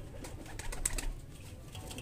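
Pigeons at a loft give low, soft cooing near the microphone, a faint steady murmur with a few brief chirpy accents.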